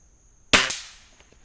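A single sharp crack of a Weihrauch HW50 air rifle, a springer, firing at small game style targets outdoors, with a short fading tail and a faint knock after; a steady high tone runs underneath.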